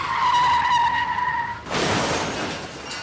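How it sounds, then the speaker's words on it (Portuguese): A car skids with a long, piercing tire squeal that cuts off abruptly into a loud burst of crashing, scraping noise, all close and with nobody talking. "Chefe está derrapando."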